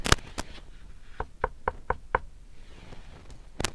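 A series of knocks on a door: a loud rap at the start, then a run of five evenly spaced knocks mid-clip, and another sharp rap at the end, close and clear with no talking.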